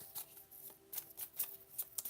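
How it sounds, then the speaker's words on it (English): Tarot cards are shuffled by hand in soft, quick riffles and flicks, close and faint, with no talking over the papery rustle. "you all see me shuffling the cards"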